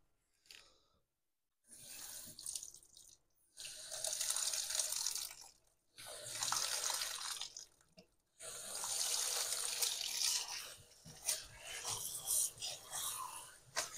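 Cold water runs from a kitchen tap in steady, loud gushes broken by brief pauses as the flow is turned off and on, splashing close by in a sink.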